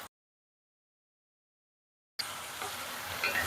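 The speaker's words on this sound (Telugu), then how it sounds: "సిమ్లో పెట్టుకుని వేయించుకోండి" Plantain and onion pieces fry in a pan, a steady close hiss and sizzle that starts abruptly after a stretch of silence and carries on alone.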